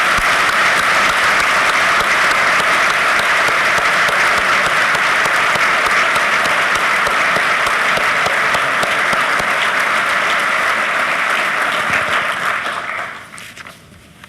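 A large crowd at a conference on emergency preparedness applauds loudly and continuously, steady clapping that fades out abruptly near the end.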